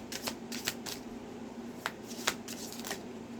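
Tarot cards are shuffled close by, giving a soft, papery riffle marked by several sharp flicks and snaps at irregular moments over a quiet, steady background hum.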